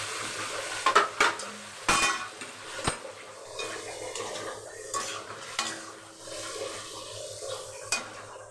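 Whole prawns are stir-fried in a wok, a spatula scraping and clanking against the metal in irregular strokes over a low, steady sizzle, with sharper knocks standing out now and then.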